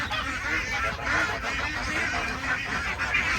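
A noisy flock of geese and ducks honks and quacks without pause, a dense chaotic chorus of overlapping calls that stays loud and close throughout, with no talking.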